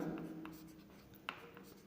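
Pen or pencil scratching on paper while working a mensuration math problem, soft and close with light strokes and a couple of small taps, in a quiet room.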